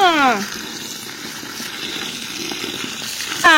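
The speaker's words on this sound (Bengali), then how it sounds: "আমি শাকগুলো ধুয়ে নিই" Water running steadily from a tap while leafy greens are washed, a close, even gush broken at both ends by brief high-pitched voices.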